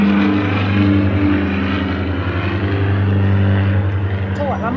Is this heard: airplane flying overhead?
yes